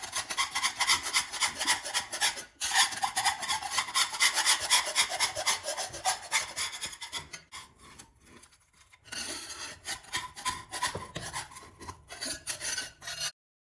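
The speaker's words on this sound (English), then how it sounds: "The next step is to clear the silicone on the floor." Old silicone sealant is scraped off a bathroom floor beside a toilet being replaced, with close, loud, rhythmic rasping strokes repeated for several seconds, a short pause, then more scraping in bursts.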